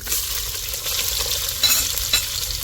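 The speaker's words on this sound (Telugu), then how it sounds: "బాగా వేయించుకోవాలి" Onions frying in a pan with cumin seeds and ajwain, a steady close hiss and sizzle throughout, with a couple of brief louder crackles near the end and no talking.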